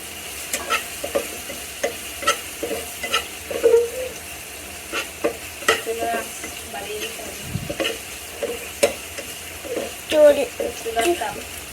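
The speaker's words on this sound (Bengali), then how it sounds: "ভেজে নিতে হবে আমাদের এরপর দিতে হবে কাঁচামরিচ কুচি" Chopped carrot and green chili for a cashew salad stir-fried in a hot pan: steady sizzling with repeated scraping stirs throughout, close by, with a voice talking over it.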